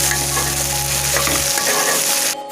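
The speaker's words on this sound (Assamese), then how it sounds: "এতিয়া মই পিঁয়াজখিনি কোমল হোৱাৰ কাৰণে 4 মিনিট এনেকৈ ভাজি লৈছোঁ।" Onions fry and are stirred in a pan for a dhaba-style chicken curry, giving a close, steady sizzle with scraping stirs, while a low background hum cuts out partway through.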